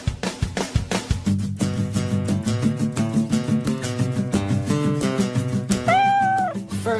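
Cats meow at a cat farm, a run of repeated meows that ends in one long, drawn-out cry, loud and close with no talking.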